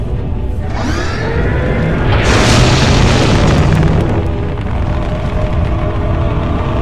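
Loud missile explosions in a Skibidi Toilet battle animation, a rumbling boom that swells into a long, dense roar of blasts lasting several seconds, with no talking.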